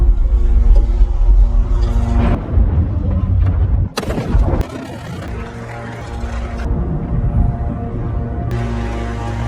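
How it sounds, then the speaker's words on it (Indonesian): A heavy explosion strikes in a film scene after emergency alarms and a Halon gas system are triggered, a loud broadband boom bursting out about midway over a rumbling, dramatic orchestral score. "Setelah terjadi ledakan"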